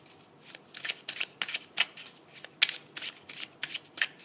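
Tarot cards shuffled by hand before a reading, a series of crisp riffling bursts in an uneven rhythm, close and clear with no talk.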